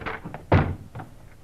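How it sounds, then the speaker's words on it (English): A door in a radio drama is rushed and burst open with a heavy thunk, a brief thudding slam with a few lighter knocks around it. "in a quick movement, they rushed the door to Frank Hadley"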